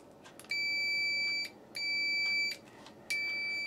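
A GS38 voltage tester beeps through its auto test, three loud sustained electronic tones of about a second each with short gaps between them, close by and with no talking.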